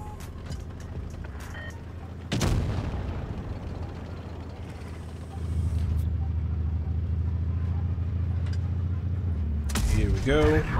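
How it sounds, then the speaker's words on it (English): A tank cannon in World of Tanks Blitz fires a shell with one sharp, loud blast, followed by a steady engine rumble and a second burst of clattering noise near the end. "I fired my first shell"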